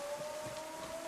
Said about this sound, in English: That sound that you can hear now, that siren, is someone going in or activating the bunker door that I want to get the keycard for.